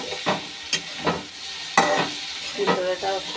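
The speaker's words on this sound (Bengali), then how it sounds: "আলুটা দেখুন কত সুন্দর ভাজা হয়ে গেছে" Potatoes frying in a pan with grated garlic, a close sizzle broken by several sharp scraping stirs of a spatula in a loose rhythm.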